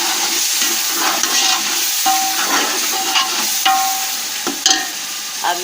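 Carrots and mixed vegetables fry for a vegetable pulao, a steady hiss and sizzle in the pan with scraping and clinks from stirring at close range.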